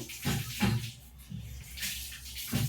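Water is poured into a pot of pappu charu, a Telugu lentil soup, in a home kitchen, giving a few short splashing gushes in quick bursts, close and fairly loud.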